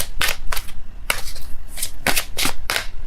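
Tarot cards shuffled and drawn by hand in a love reading, a quick series of crisp riffling bursts and flicks with short pauses between, close and clear with no talking.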